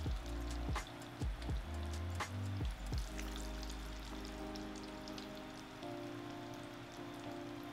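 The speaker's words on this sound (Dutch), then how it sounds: "En dan ga ik verder met bakken" Bitterballen frying in a pan give a steady, dense crackling sizzle throughout, with a few close knocks and clatters near the start.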